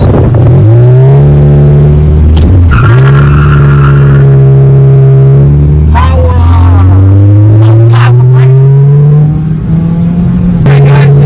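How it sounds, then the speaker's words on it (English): Toyota Supra doing a burnout, a loud straining engine revving in rising and falling sweeps with tyre squeal, close and overpowering, interrupted by a couple of sharp drops in pitch. "the infamous Toyota Supra burnout."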